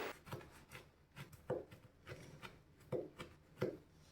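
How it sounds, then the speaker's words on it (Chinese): A knife chops a small handful of dried cranberries on a cutting board, giving a series of quick, irregular close taps with soft rubbing between strokes, with no talk. "一小把蔓越莓干切碎"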